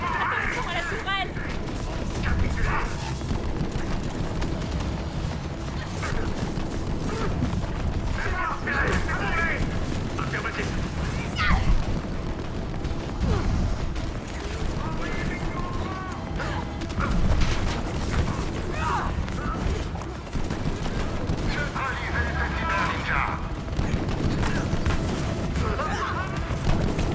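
A turret fires repeated salvos in the video game Split Fiction, making a dense, continuous barrage of booms and mechanical crashes that runs throughout, with voices mixed in.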